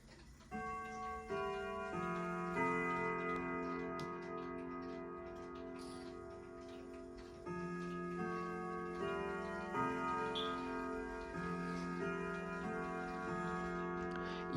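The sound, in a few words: Westwood Triple Chime grandfather clock ticking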